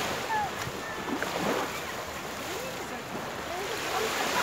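Gentle Baltic Sea waves and water sloshing around someone wading in off the shore in early May, a soft, continuous watery wash heard up close with light wind and faint background voices.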